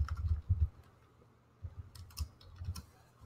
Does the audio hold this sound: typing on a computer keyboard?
yes